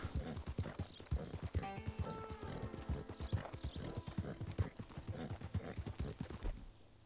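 Horse hooves clip-clop steadily in Red Dead Redemption 2, a brisk, continuous rhythmic gait close up, with game ambience beneath and a brief tonal sound partway through.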